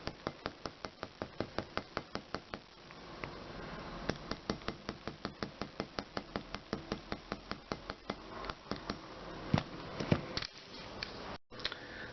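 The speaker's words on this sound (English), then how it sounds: "So I'm just going to hammer both earring wires." Metal earring wires are struck with a metal chasing hammer on a hard surface, giving a steady series of sharp, close taps at a brisk even rhythm, with a brief pause near the end.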